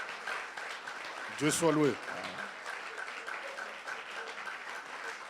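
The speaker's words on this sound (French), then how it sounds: "Come on, clap your hand for Jesus." Church congregation applauding during a worship seminar, a dense wash of clapping heard throughout, while a voice speaks briefly over it.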